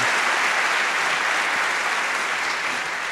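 A crowd claps during an onstage talk with a singer, producing a sustained wash of applause that stays full and even before easing slightly at the end; no speech is heard.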